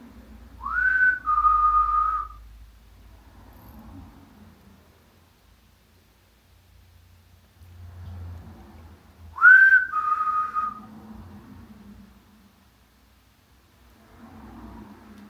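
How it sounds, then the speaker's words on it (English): Two short whistled phrases, each a quick rising note falling into a held tone, separated by several seconds of near quiet with faint rustling. "Are you going to copy my whistle?"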